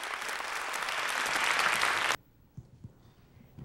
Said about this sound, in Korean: 첫 곡이 끝나자 객석에서 뜨거운 박수가 터져나온다.